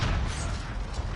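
A video game gun reloading, a dense burst of close mechanical clicks and metallic clatter filling the short moment, loud and unbroken.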